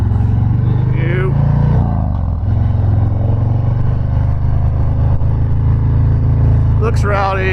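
A 2019 Harley-Davidson FXDR drag-style Softail rumbles steadily while riding, a loud low engine drone with wind roar throughout and brief rev swells near the start and end; someone talks over it.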